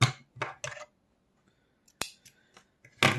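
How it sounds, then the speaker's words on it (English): Scissors snip through yarn while finishing a crocheted Christmas scrunchie: a few crisp, close cuts in quick succession, a pause, then more sharp snips, with no talking. "And now I cut my yarn."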